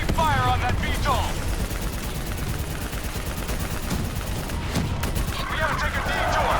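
Soldiers shooting at a VTOL aircraft in Call of Duty: Black Ops III, with sustained heavy gunfire and battle noise rattling on throughout, loud and close, over brief shouted voices.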